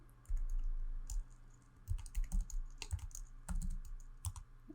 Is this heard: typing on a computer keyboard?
yes